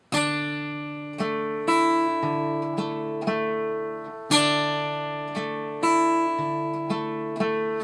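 Fingerpicked acoustic guitar playing a steady, repeating pattern of plucked notes with index-finger upstrokes and downstrokes, each stroke ringing into the next, close and clear with no voices.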